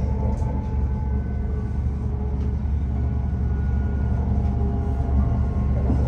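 Onboard a TransPennine Express passenger train travelling between Meadowhall and Doncaster: a steady low rumble of the moving carriage that holds constant throughout, with no talking.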